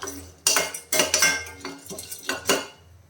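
A utensil scrapes and clatters against a pan in several quick, irregular strokes, dry lentils and roasted gram rattling as they're stirred and roasted, close and fairly loud.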